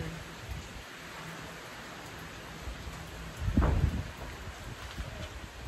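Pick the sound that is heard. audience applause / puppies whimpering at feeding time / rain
rain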